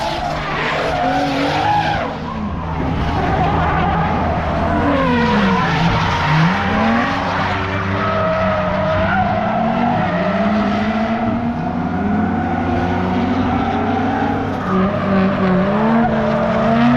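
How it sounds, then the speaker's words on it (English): A drift car circling on track in Japan, engine revving and wailing while tires squeal and skid continuously, loud and sustained with rising and falling pitch as it slides through corners. "So my boy Joey is driving his FTJ car."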